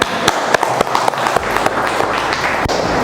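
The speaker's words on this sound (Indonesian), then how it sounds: "Bagus, tepuk tangan ya." Students clap in an automotive engineering classroom, a lively burst of many hands close to the microphone, fairly loud and irregular, continuing for a few seconds.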